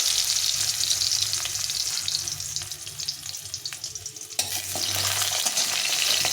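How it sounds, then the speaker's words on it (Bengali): Lentil dumplings (bori), rubbed with salt and turmeric, frying in a hot wok, giving a dense continuous sizzle with light stirring scrapes throughout, the hiss briefly dipping and then surging back. "প্রথমে কড়াইটা গরম হয়ে গেছে আমি বড়িটাকে ভেজে নিই"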